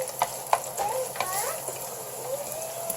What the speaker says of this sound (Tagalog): painit lang po tayo ng mantika dahil nalagyan po natin yung ginger. Halu-haluin lang po natin hanggang sa naluto ng konti